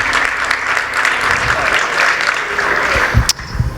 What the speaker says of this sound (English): Can I get a round of applause for Hurricane, who was able to get into the